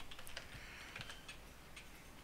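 Quiet clicking of computer keys as someone types into a Minecraft server game, a light irregular patter of taps, faint and close, with no talking.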